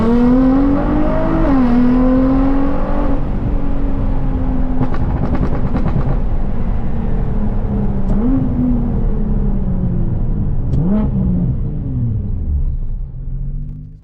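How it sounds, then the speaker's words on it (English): Nissan GTR engine droning loudly while driving, with a deep steady rumble that rises and dips through gear changes and brief throttle blips, close and continuous with no talk. "some GTR noises for the morning to wake all the neighbours up."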